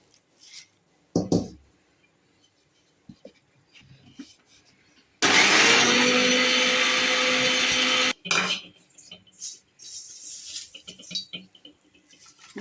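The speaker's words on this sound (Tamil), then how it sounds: "ஒரு அடி அடித்த உடனே நம்ம வறுத்து வச்சுருக்க ஆவாரம்பூவை கொஞ்சம் கொஞ்சமாக போட்டு அடிச்சுக்குவோம்." A kitchen mixer grinder roars at full speed for about three seconds while grinding roasted avaram flowers, loud and steady, between brief knocks and handling noises.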